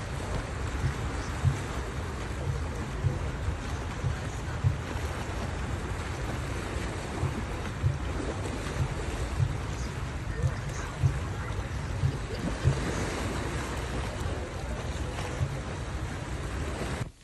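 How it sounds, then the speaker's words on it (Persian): Persian Gulf waves wash the shore at Bushehr in a low, continuous surge with small recurring swells, a faint murmur of voices beneath. "بعد از کافه هم رفتیم نشستیم کنار دریای زیبای خلیج فارس"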